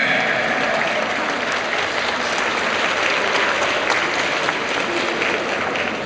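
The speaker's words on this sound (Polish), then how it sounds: "Gorące brawa" Sustained, dense applause from a large audience at a convention costume contest, steady and loud throughout with no pauses.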